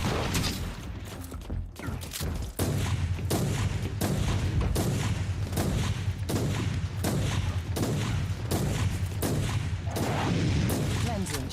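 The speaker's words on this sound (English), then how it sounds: "Shots fired." Heavy gunfire in Warhammer 40K: Inquisitor - Martyr, a loud, evenly spaced series of booming shots about every half second, sustained over a low rumbling battle bed.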